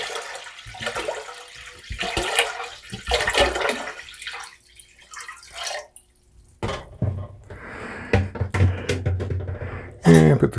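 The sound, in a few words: water being poured into a pot for cranberry wine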